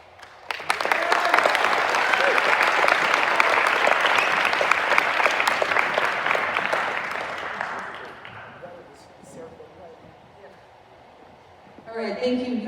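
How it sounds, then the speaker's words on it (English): A live audience claps loudly and steadily for a band after its performance, a dense roar of applause lasting about eight seconds before fading, followed by scattered claps and a voice speaking. "One more round of applause for our 6th band."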